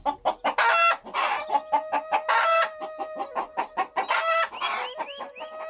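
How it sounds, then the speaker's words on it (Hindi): A cartoon chicken clucks and squawks in rapid, loud bursts, with crowing-like calls, as a farmer chases after it; no talking. "किसान मुर्गी को पकड़ने के लिए उसके पीछे भागने लगा।"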